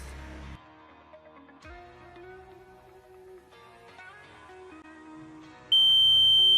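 After quiet background tones, a gas detector's loud, shrill electronic buzzer suddenly switches on and holds a steady piercing beep at the end.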